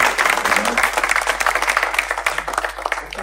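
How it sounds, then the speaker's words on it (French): Applause from a press-conference audience in France, a burst of many hands clapping close and fairly loud, with voices mixed in underneath. "est-ce qu'on peut applaudir pour eux quand même"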